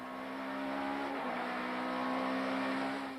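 Opel Astra touring race cars at Kyalami during the 1994 South African Touring Car Championship, a steady sustained engine drone holding one pitch for a few seconds, loud and close, with no talk.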